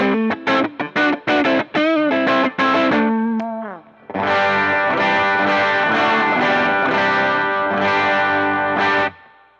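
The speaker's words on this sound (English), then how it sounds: "Then I go into the blues driver, which is going to sound similar." Electric guitar through a Boss Blues Driver overdrive pedal: a quick run of picked, slightly dirty notes, then sustained compressed chords ringing out loud and close with a chorus-like sheen, no talking.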